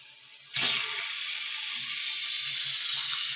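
Chicken hitting hot oil in a pan, a sudden sizzle that settles into a steady loud hiss of frying, with faint household sounds underneath.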